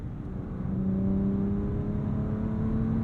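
The W12 engine of a 2023 Bentley Flying Spur Speed hums steadily and rises in pitch as it revs, a smooth, refined drone with no voices.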